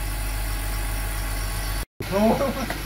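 A BMW car engine idles with a steady low rumble and faint ticking after an oil change, no aggressive lifter ticks, briefly cut out, then continues under a short voice.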